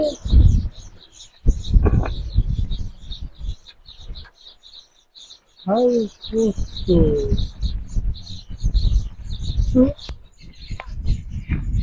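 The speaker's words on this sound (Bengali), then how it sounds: "দেখুন প্রচুর পাখি আছে গাছে" Many birds chirp and tweet continuously in a dense high chorus from a village tree, with occasional cooing calls and low voices talking underneath at times.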